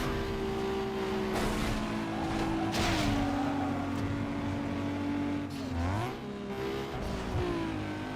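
Cars racing in Need For Speed Underground 2 alongside a GTO, RX-8 and Corsa, a loud sustained engine drone shifting pitch with gear changes and revs, plus brief tire squeals, close and continuous without talk.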